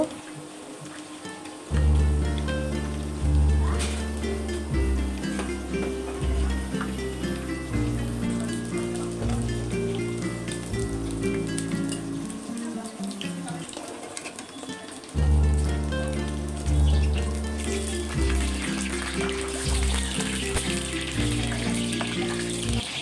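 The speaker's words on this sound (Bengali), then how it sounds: "এবার এই বেটারের মধ্যেই ফুলগুলোকে চুবিয়ে চুবিয়ে গরম তেলের মধ্যে ভেজে নেব।" Batter-dipped flowers frying in hot oil in a wok, a continuous crackling sizzle that carries on under steady background music for the full length.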